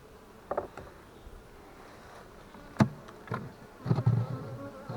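Insect buzzing at a beehive in an apiary left abandoned for two years, with a few brief louder buzzes passing close to the microphone over a quiet, faint background.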